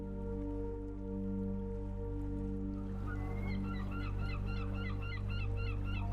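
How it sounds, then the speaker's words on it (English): Seagulls cry repeatedly along the shore at Nosy Be, Madagascar, a run of short squawking calls starting partway through over a steady low droning hum. "Seagulls gather along the gentle waves, their cries mingling with the ocean breeze and the rhythmic hush of the tide."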